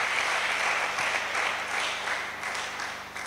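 Church congregation applauding during a prayer and fasting service, a steady wash of many hands clapping that holds loud throughout and eases slightly toward the end.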